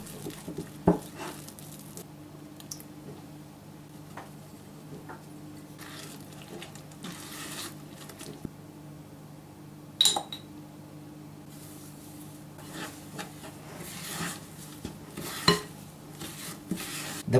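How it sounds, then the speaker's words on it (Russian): Şekerpare dough of almond and wheat flour, coconut, powdered sugar, egg, baking powder and oil being kneaded by hand in a bowl, with soft pattering and faint clinks and knocks of the bowl, quiet and steady with no talk. "Замешиваем тесто."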